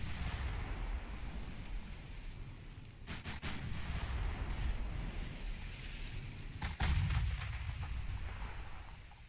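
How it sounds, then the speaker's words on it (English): Heavy cruiser's nine-gun broadsides boom in Ultimate Admiral Dreadnoughts, with a couple of sharp, heavy reports about three seconds apart over a constant roar of sea and engine noise. "Get all 9 guns firing."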